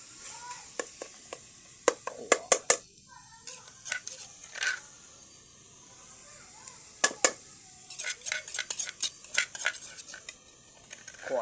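Pork fat and garlic fried in a pot, with a utensil scraping and clinking against the metal in irregular bursts over a faint sizzle.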